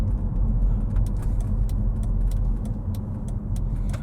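A car is driven through the town square of Independence, Oregon, under harder acceleration, giving a steady low engine and road rumble inside the cabin with faint rattles and clicks over it, with no talking.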